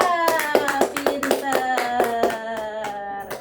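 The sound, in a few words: applause, clapping hands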